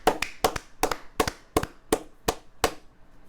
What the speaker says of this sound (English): That's like if you clap like this.